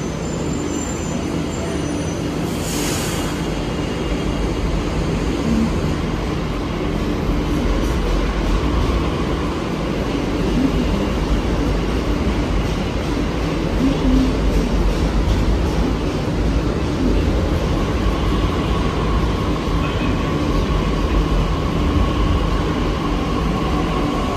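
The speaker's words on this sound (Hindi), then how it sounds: "फाइनली मेरी मेट्रो आ चुकी है" A continuous loud rumble of a metro train running on rails at Kashmere Gate station in Delhi, steady throughout with a brief hiss near the start.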